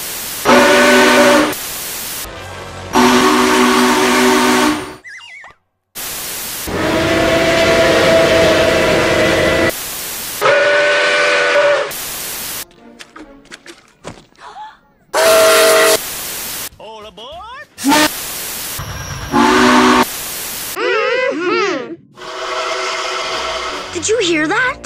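Nickel Plate Road No. 765, a steam locomotive, sounds its whistle in a series of loud, close blasts of varying length. The blasts are separated by short pauses and quieter stretches.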